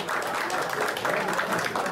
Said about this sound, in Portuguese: Uma efusiva salva de palmas aos aniversariantes da semana.